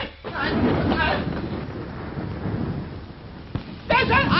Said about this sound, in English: There's a storm coming up.